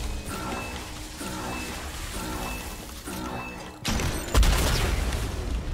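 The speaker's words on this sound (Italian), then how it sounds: "Esplosione." An explosion goes off in a Gundam-themed video game amid steady game music, landing as a sudden loud low boom near the end and followed by a louder sustained rumble of blasts.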